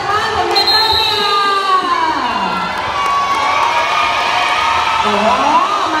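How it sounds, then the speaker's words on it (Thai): Cheering and shouting from spectators at a school chairball match, a steady crowd roar with high voices and whoops rising over it throughout, loud and close. "ขอเสียงเชียร์จากบ้านของเพื่อนด้วยค่ะ"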